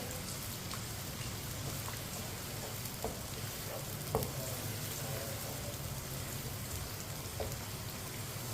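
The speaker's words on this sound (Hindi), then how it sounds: "प्याज को हल्का सा ब्राउन कर लेंगे। इसे इसी तरह चम्मच चलाते हुए ब्राउन करना है।" Finely chopped onion with whole cumin and coriander seeds browns in a pan, a soft, even sizzle that holds steady while a spoon stirs with a few faint clicks.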